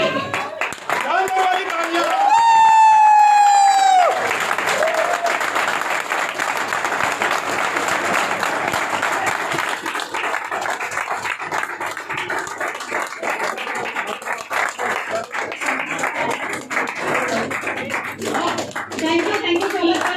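Audience clapping at a hotel event in Nawalgarh as a Platinum Director is invited up, a sustained round of applause running throughout, briefly preceded by a melodic musical jingle, with voices talking underneath.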